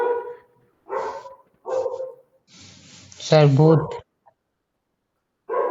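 Dogs bark in several short, loud bursts close by, separated by brief pauses, with a voice speaking between the barks.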